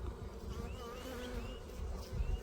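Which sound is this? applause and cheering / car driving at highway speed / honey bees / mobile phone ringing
honey bees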